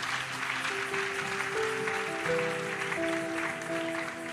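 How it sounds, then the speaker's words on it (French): A church congregation applauding, a steady wash of many hands clapping at moderate distance, with sustained tones and voices murmuring underneath throughout. "Acclamez d'abord là où vous êtes."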